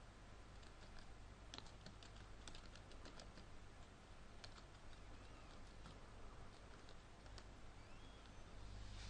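Steady typing on a computer keyboard while entering text in a word processor, a continuous patter of clicks that runs nearly nonstop for about nine seconds with no talking.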